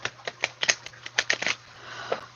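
A quick series of crisp papery flicks and riffles, like cards being shuffled, in an irregular patter over a faint low hum.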